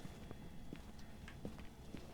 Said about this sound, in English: Can you hear those footsteps?